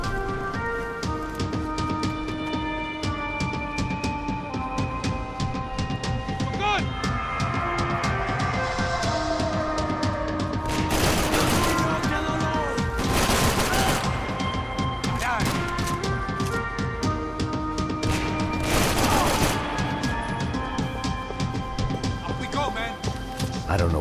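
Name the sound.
gunfire from a powerful rifle in video game Max Payne 3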